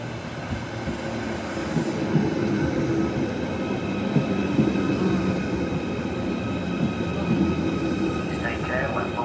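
Class 507 electric train rolling into a station, a steady rumble of wheels and motors with faint squeals and clicks, a voice murmuring underneath throughout.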